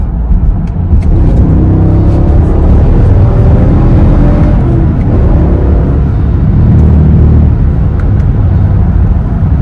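A Dodge Durango RT engine pulls hard up through the gears into fourth, a loud, close, continuous rumbling roar that holds steady throughout.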